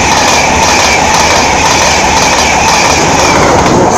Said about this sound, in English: Next train passed by is a King's Cross service from Edinburgh.